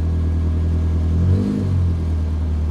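A rare BMW M3 Sport Evolution with a modified-sounding engine revs once, a low steady rumble swelling briefly into a deeper growl before settling back to a loud idle, with no talking.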